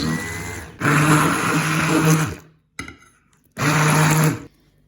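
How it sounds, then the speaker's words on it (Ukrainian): A blender whirs loudly in two bursts through a cream cheese filling, running for about two seconds, stopping briefly, then starting again for another second. "І переб'ю тепер це все блендером до однорідності"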